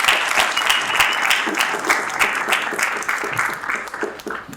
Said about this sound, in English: Let's give USCRI a round of applause and gratitude.